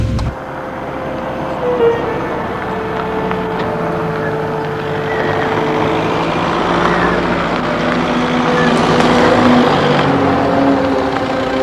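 A car engine hums steadily from inside the cabin while driving, the rumble rising slightly as the car pulls over, with a brief voice near the start.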